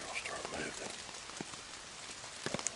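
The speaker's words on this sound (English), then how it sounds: "It's raining, and hopefully after the weather breaks, the deer will start moving." Steady rain falls outdoors during late-season deer hunting, a dense even patter with a few louder drips near the end, moderate and close.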